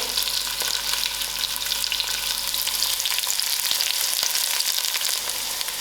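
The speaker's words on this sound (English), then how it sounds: "I'll allow these onions to fry a little." Onions frying in a pan for a lamb stew, a loud continuous sizzle and crackle heard up close, with occasional stirring scrapes and no voices.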